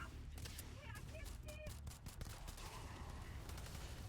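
Gunfire from the Astra 19 sidearm in the video game Starfield: a dense run of sharp, loud shots overlapping one another, set against steady background game noise and what may be faint voices.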